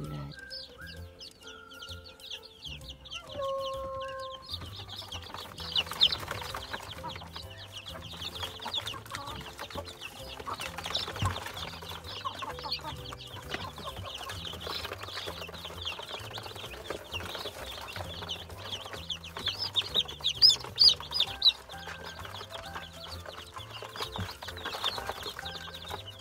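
About fifty newly hatched chicks from the first hatch of an incubator peep in dense, high-pitched chirps. The peeping is close and continuous, with some clattering handling noise early on.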